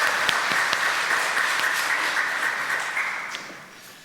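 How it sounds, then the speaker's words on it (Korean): A church congregation applauds during a Sunday worship service, a crowd of clapping hands over a sustained background tone, then gradually fading toward the end. "하나님께 영광 박수 올려드리겠습니다."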